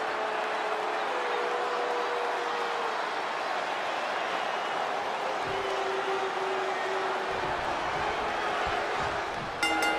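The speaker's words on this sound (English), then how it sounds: "The people are on their feet and cheering for the arrival of one of the most inspirational heroes" Crowd cheering and applause in the wrestling game WWE 2K20 form a dense, continuous arena roar that holds steady, ending with a brief burst of sharper sounds.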